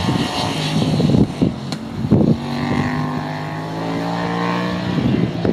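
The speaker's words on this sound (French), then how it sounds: "Au démarrage, le silencieux Acra est un vrai plaisir à entendre, avec sa sonorité rauque et claquante lors de chaque sollicitation" A 2019 Yamaha XSR700 Xtribute motorcycle with an Akrapovic exhaust rumbles steadily up close, its engine note rising and falling with a few sharp blips over a rough, throaty drone.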